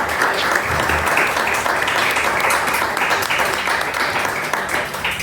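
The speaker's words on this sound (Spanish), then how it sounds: "Un aplauso para Pepe, por favor." A live audience breaks into sustained, dense applause for a guest named Pepe during a talk about a book, steady and loud for several seconds with no speech over it.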